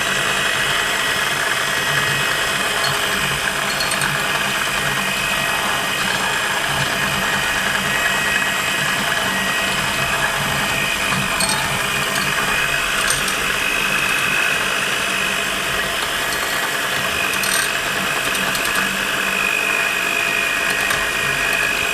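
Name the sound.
electric beater whipping cappuccino coffee mixture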